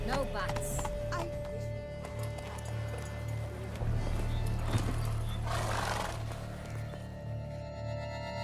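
Horse galloping in The Witcher 3: Blood and Wine, steady hoofbeat rhythm running throughout over a constant low game ambience, with a brief whinny and voices talking over it.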